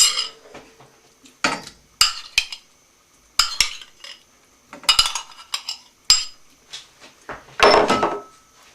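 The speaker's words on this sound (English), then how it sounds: "I'm now going to add the lobster" Lobster being stirred into a cheese sauce in a pan, heard as scattered sharp clinks and scrapes of a utensil against the pan, separated by brief quiet gaps, close and fairly loud.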